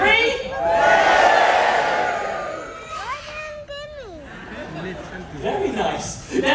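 A live stage-show audience screams and claps on cue for a mind-reading performer, a loud burst of crowd noise that swells and then fades, followed by scattered whoops and voices.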